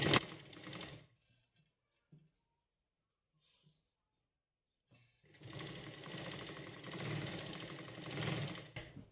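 Sewing machine topstitching along a sleeve lining, a short burst of stitching at the start, then near silence with faint handling, then a longer steady run of rapid mechanical stitching close by.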